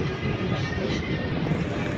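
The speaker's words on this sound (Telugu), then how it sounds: "మనం ప్లాట్ఫామ్లోకి ఎంటర్ అవుతుంటే అటు సైడ్ నుండి ఏదో ట్రైన్ అయితే వస్తుంది." A train rumbles into a station platform on the Kakinada line with a steady low roar and wheel noise, fairly close and continuous, with no voices over it.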